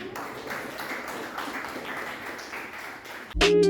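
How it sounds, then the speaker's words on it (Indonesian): Audience applause for the jury at a class project presentation session, a moderate steady patter of many hands clapping at middling distance, ending in a loud abrupt tonal sound in the final moments. "berikan tepuk tangan yang meriah kepada Dewan Juri kita"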